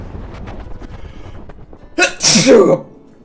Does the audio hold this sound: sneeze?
yes